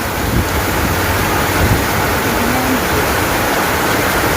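Dense, steady monsoon rain pours down in Thailand as a continuous broadband hiss, loud and unbroken throughout.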